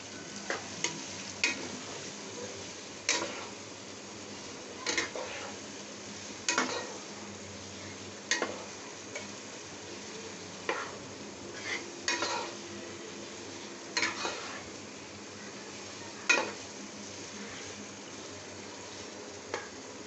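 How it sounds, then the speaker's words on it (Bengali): A spatula stirs and scrapes curry being sautéed in a pan, giving a low steady sizzle broken by sharp clinks and scrapes every second or two across the whole stretch, fairly close and moderately quiet. "ভালো করে একটু নেড়ে কষিয়ে নিতে হবে"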